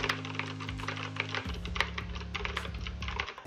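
Fast, even keystrokes clatter on a computer keyboard under a low steady hum, close and quiet, with no one speaking.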